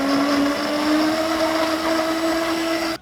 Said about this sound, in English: So this is a really, really high-speed blender.